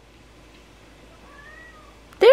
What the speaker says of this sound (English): That was a real meow.